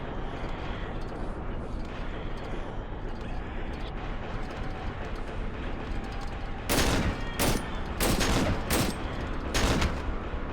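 Several loud, sharp shotgun blasts in the horror game Cry of Fear, spaced irregularly over a constant murky ambient background, with a voice talking now and then.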